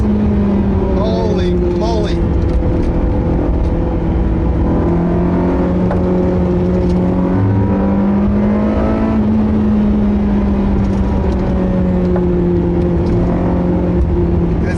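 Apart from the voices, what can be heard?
sports car engine revving while driving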